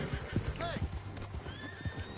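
A horse in Red Dead Redemption 2 gives a clear neigh amid a few clopping hoofbeats, close and brief, while a voice talks underneath.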